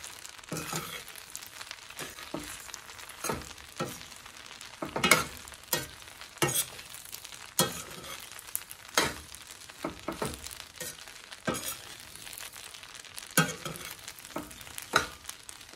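Garlic frying in a pan for spaghetti with meatballs, with steady stirring and scraping over a soft sizzle, marked by repeated sharp utensil clicks and scrapes at irregular intervals.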